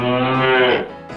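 A voice imitates a cow with one long, drawn-out, resonant moo that swells and then trails off, close and loud.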